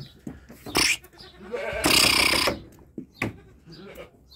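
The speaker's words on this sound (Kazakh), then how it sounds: "Осы екі лақ жәнегі голландский занин ешкінің лақтары." Dutch Saanen goat kids bleat close by in short, loud bursts, one long cry in the middle and a few briefer calls around it, with quiet pauses between.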